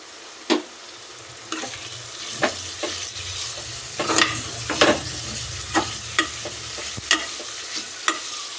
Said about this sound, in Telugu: ఇప్పుడు కొంచెం చింతపండు, కొంచెం పసుపు వేయించుకోవాలి